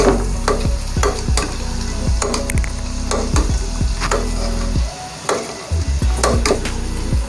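A spoon stirs a yogurt and cream mixture for chana dal halwa, making steady, close scraping and swishing strokes against the bowl in a regular rhythm, with one brief pause near the end and no talking.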